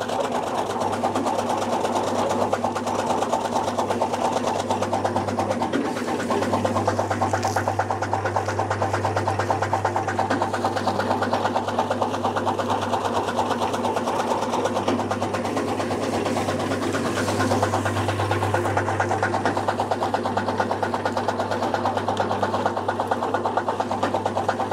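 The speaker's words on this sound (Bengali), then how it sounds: "দর্শক আমি ঘাসগুলো কাটা দেখাচ্ছি।" A newly bought grass-cutting machine chops fodder grass on a farm, giving a continuous motor drone with a fast rattling chatter that swells slightly at times and runs steadily without voices.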